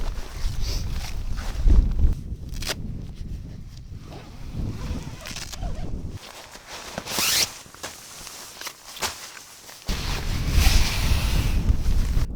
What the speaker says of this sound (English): Jeez, it's fair windy tonight.